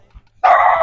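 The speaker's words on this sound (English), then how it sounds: "you better not bark my brother like that" A single loud, close dog bark, sharp and sustained, bursting out after a brief quiet moment indoors.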